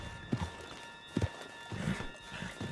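Horse hooves clip-clop in Red Dead Redemption 2, a few distinct, spaced hoofbeats at moderate distance over a soft background of ambient noise and rustle.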